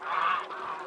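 A single goose honks at a goose farm, one loud, nasal, drawn-out call heard up close.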